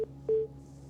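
Telephone line tones after a call drops mid-interview: two short steady beeps, the second longer, sounding faintly over a quiet line hum with no talking.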